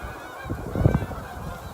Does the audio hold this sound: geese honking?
yes